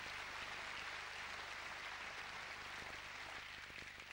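Crowd applause in a squash arena at the 1998 British Open final after a backhand cross-court volley nick, a dense, steady roar of clapping that fills the clip at a loud, even level without letup.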